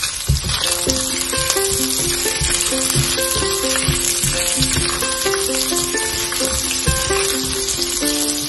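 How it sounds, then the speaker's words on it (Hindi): Green and red chillies fry in a pan for an Indian Chicken 65 dish, giving a steady, close sizzle that runs the whole time beneath a layer of melodic background music. "इसको थोड़ा सा फ्राई करेंगे"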